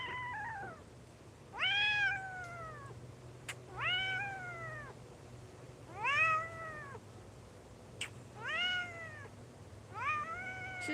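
A cat meows repeatedly indoors, five drawn-out rising-then-falling calls spaced a couple of seconds apart, close and clear over a low steady hum.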